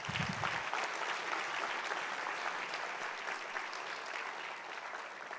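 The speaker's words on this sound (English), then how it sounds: "could we just give them one more round of applause?" Soft, sustained audience applause fills a hall at a professional association event as the outgoing executive committee leaves the stage, even clapping that holds steady throughout.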